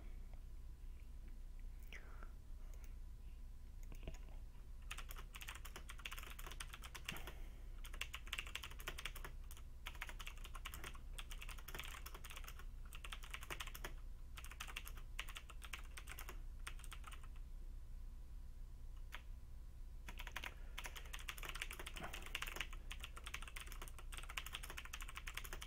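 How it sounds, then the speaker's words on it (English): Someone types on a computer keyboard in bursts of quick, soft, close key clicks, pausing between runs, with faint whispered speech underneath. "I was typing a message to Titandrake."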